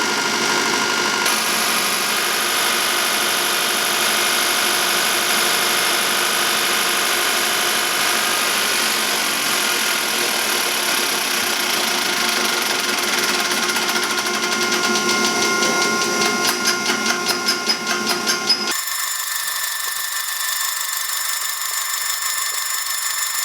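A Stanadyne DE2435 four-cylinder diesel injection pump for a John Deere 550 runs on a test stand with a loud, steady mechanical whine and rapid ticking pulses, then abruptly shifts to a thinner, higher tone near the end.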